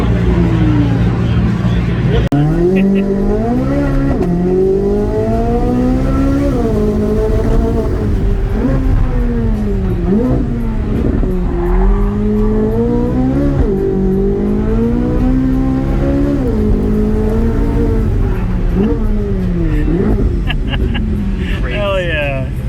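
A 2023 Ford Mustang Mach 1 engine revs and surges repeatedly, rising and falling in pitch, loud and close, with a voice talking over parts of it.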